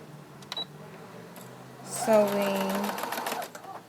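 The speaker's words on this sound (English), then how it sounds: "I'm getting ready to sew the armpit completely. Sewing." A sewing machine stitching the armpit seam of a sleeve runs in a short close burst after a couple of faint clicks, with a voice speaking over it.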